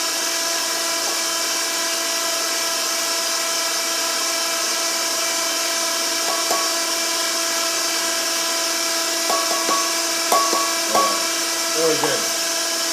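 An electric whisk whips cream with sugar, giving a steady high mechanical whir with sharper bursts near the end as the speed is raised; no words are spoken.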